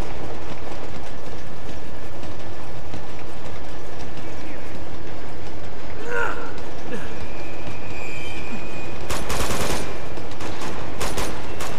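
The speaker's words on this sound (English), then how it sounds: "this train is actually moving, which makes the shooting a bit difficult" A moving train rumbles loudly and continuously with clacking wheels in Uncharted 2, while bursts of gunfire crackle over it, including a dense volley near the end.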